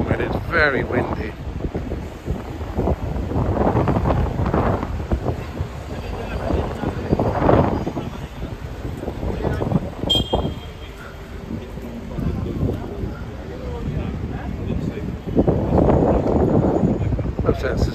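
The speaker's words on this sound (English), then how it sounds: "it's very windy." Strong wind buffets the microphone in loud, rumbling gusts that rise and fall on a London street, with faint speech partly buried underneath.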